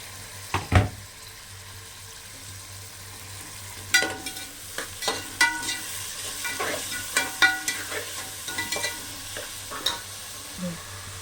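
Chopped tomatoes sauté in a pan for Kongu-style biryani, a faint steady sizzle broken by scraping stirs and occasional clinks of a spoon against the pan, close and with no voices.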